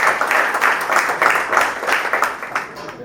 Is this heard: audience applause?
yes